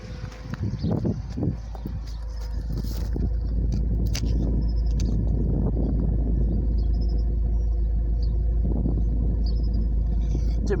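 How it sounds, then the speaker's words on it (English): A Mercedes-Benz CLK 230 Kompressor with an M111 engine idles lumpily, a low, steady rumble broken by irregular pops and knocks, heard close up with faint handling noises. "You can hear it just sort of going pop, pop, pop, pop, pop, pop."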